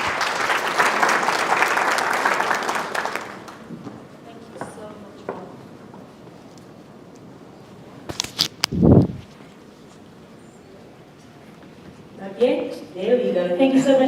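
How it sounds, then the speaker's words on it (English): Audience applause for a media company CEO at an HR conference, a broad wash of clapping filling the first few seconds before fading out, followed by quieter stretches, a few isolated knocks and a brief thud. "One more round of applause for the CEO of Topco Media, Ralph"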